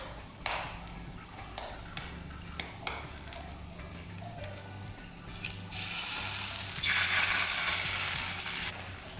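An egg sizzles as it fries inside a crispy potato hash brown nest, with sharp utensil clicks and taps early on, then the frying hiss swells louder and steadier toward the end, close up.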